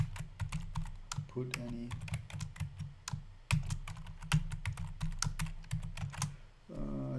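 Keys tapping on a computer keyboard as a password is entered during an Ubuntu 18 setup in VirtualBox on Windows 10: a steady run of close, crisp keystrokes with brief pauses, with a short spoken remark near the end.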